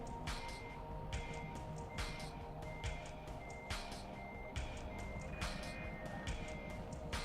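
A truck in Euro Truck Simulator 2 reverses with a trailer, its reversing alarm beeping in a steady, evenly spaced rhythm over a continuous low diesel engine rumble, fairly faint and with no talk.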